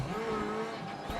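Small rally car engine in Assetto Corsa Rally, a steady high-pitched buzzing drone with tire scrabble, loud and continuous throughout, no talking.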